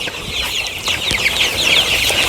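A flock of Sonali colour-bird chickens sick with Gumboro disease keeps up a dense, continuous chorus of high, shrill cheeping and soft clucks, close by with occasional light knocks.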